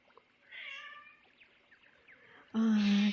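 A cat meows indoors, first with a faint, drawn-out mew, then after a pause with a sudden loud, close, insistent meow.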